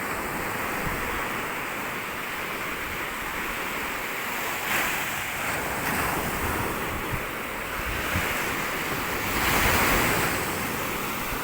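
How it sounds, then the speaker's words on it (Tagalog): Steady ocean surf washes onto the shore in a continuous rushing roar, with wind buffeting the microphone and a few slightly louder swells. "Panatag yung dagat. May kunting alon,"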